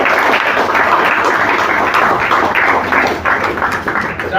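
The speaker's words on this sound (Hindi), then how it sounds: "जोरदार तालियां प्लीज" A stage event audience applauds the backstage crew with sustained, loud clapping that fills the whole stretch, dense and steady with a slight dip near the end.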